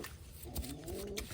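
Pigeons, zebra doves among them, give short soft coos twice in a quiet close moment amid faint background rustle.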